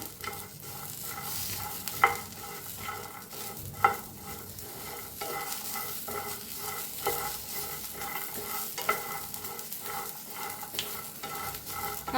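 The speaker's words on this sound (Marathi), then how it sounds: "कढीपत्तेच पानं एक चमचाभर जिरं भाजून घेऊया" Curry leaves and cumin seeds dry-roasting in a pan without oil, with a soft crackling hiss and regular stirring scrapes and occasional sharp taps of the spoon, close up, with no voices.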